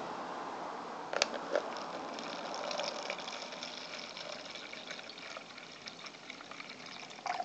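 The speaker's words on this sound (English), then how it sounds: "add vinegar." Vinegar pours into a water-based fruit fly culture media mix, a continuous liquid gush with a few small clinks and splashes, close and fairly quiet.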